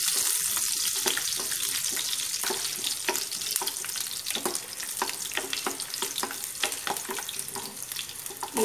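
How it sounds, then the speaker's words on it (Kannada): Cumin and garlic fry in hot oil, a steady close sizzle with crackling pops and occasional stirring scrapes, continuing without any voice. "ಇವಾಗ ಇದಕ್ಕೆ ಜೀರಿಗೆ ಹಾಕ್ಕೊಂಡ್ಬಿಡಿ, ಹಂಗೆ ಬೆಳ್ಳುಳ್ಳಿ, ಬೆಳ್ಳುಳ್ಳಿ ಒಂಚೂರು ಫ್ರೈ ಆಗಲಿ."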